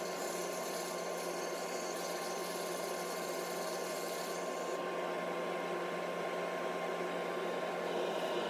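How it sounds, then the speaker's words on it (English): Steady abrasive whirring of sanding against the inside of a wooden vase being turned, a constant rough hiss over a motor hum with no voices present. "Sanding the inside, again"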